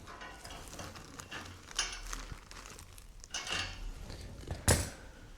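Pliers tightening metal radiator valve fittings during a radiator installation: faint, scattered metallic clicks and scrapes with one sharper clank near the end, no talking.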